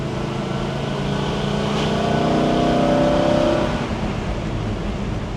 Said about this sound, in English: Beautiful sounding car, great torque.